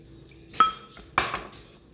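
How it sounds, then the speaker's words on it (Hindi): Besan pakora batter being mixed with water in a bowl gives two sharp clinks of a spoon against the bowl, each with a short scraping tail, close and moderately loud in an otherwise quiet room. "अब थोड़ा थोड़ा करके पानी ऐड करेंगे और इसको मिक्स कर लेंगे"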